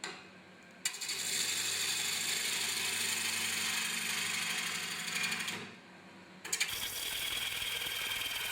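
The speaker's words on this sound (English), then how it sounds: "But first I'll start by sharpening the tool, so I can cut the wood with ease." A wood-turning tool held against a motor-driven sharpening grinder produces a steady, loud, gritty grinding whine, broken by a short pause before the grinding resumes, with no voices.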